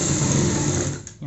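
Sewing machine stitching a one-inch belt onto the waist of a child's frock, a close, continuous motor whir that briefly slows and dips near the end.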